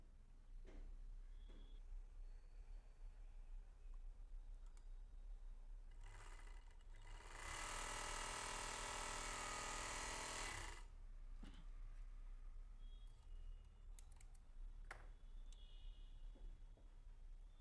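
An overlock (interlock) sewing machine stitching fabric runs for about three seconds in the middle as a loud, fast whirring burst, with quiet handling clicks and rustles of the cloth before and after in a calm room.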